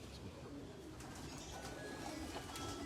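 Pigeons coo softly amid a steady background murmur of a busy space, with faint voices mixed in.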